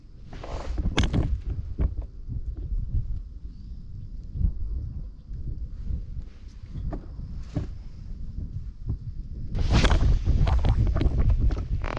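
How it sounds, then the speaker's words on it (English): Strong wind buffeting a microphone at a West Texas kayak campsite, continuous low rumbling gusts with sharper blasts and a few knocks and rustles. "Wind's picking up."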